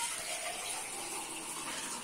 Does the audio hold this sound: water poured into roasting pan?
yes